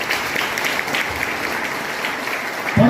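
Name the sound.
audience applause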